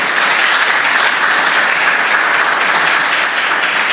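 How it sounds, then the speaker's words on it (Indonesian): Congregation at a church service applauding for God, loud continuous clapping from many hands, an even dense roar with no pauses. "Tepuk tangan buat Tuhan."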